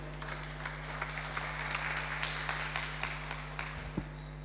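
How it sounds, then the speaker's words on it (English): Light, scattered applause from a small crowd at a community forum in St. Peter, heard under a steady low hum, with no talking. "Please give him a round of applause"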